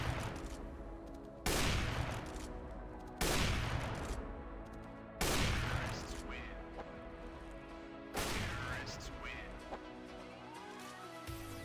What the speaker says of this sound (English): Try to wallbang him by shooting the gap between the red container and those white pipes right here